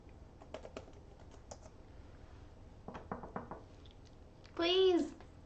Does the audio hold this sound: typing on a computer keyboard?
yes